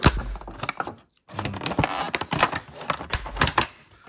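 Plastic sushi takeaway trays being opened at a restaurant table, giving a close run of crisp clicks, snaps and crinkly taps in irregular bursts with a brief pause, no talking.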